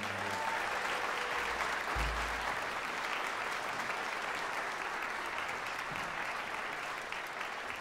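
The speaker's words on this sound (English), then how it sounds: "Can you please give them a round of applause?" Concert audience at a band showcase applauding faculty, a dense, even wash of clapping that runs steadily from start to finish.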